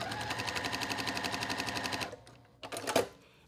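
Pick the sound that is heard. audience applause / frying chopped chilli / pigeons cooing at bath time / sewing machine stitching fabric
sewing machine stitching fabric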